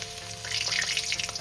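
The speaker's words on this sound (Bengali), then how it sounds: "এবার রসুনটাকে লাল লাল করে একটু ভেজে নেব" Crushed, chopped garlic frying in oil for a sechi greens stir-fry crackles and sizzles steadily and fairly close, with light stirring in the background and no one talking.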